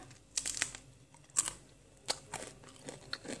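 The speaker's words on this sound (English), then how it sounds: "You hear that crunch." Close, dry crunches of someone biting into a crispy fruit cracker snack, several sharp bites spaced irregularly with quieter chewing between, no talking.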